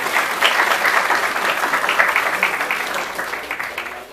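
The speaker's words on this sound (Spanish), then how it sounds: "El aplauso respectivo." An audience applauds at a 2014 interparish beauty queen candidate event in Latacunga, Ecuador, a dense, loud burst of clapping that holds steady for several seconds and then tapers slightly.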